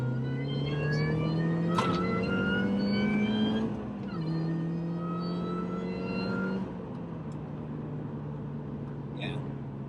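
A Mini Clubman F54 accelerates with a rising tonal supercharger-style whine riding over the engine, climbing through two gear pulls before easing off, heard from inside the car with voices talking.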